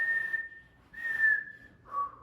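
Someone whistles three sustained pure notes, the last one lower, moderately loud and close, with no speech.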